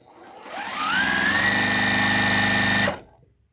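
A sewing machine stitches at slow speed, its motor humming steadily and rising slightly in pitch before cutting off abruptly after about two seconds of running, close and alone without talk.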